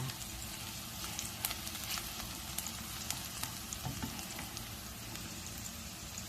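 Three eggs and crushed garlic fry in a pan for a Thai stir-fry, a soft, even sizzle with light scattered ticks and stirring clicks, close but quiet throughout.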